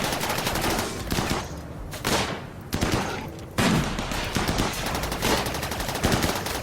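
Gunfire from the video game RimWorld, with rapid bursts of shots and fusillades in quick succession, loud and close, continuing through the whole stretch without talk.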